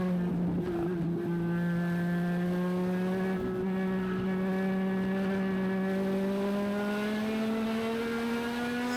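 INEX Legends race cars run at New Hampshire Motor Speedway, a steady loud engine drone with rising pitch as the cars accelerate, continuous and close throughout with no talking.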